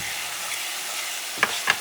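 Minced garlic frying in a hot pan, a steady close sizzle with two sharp scraping clicks near the end.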